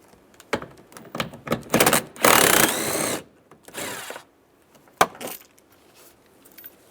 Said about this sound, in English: Using a 10mm socket. Take those screws out.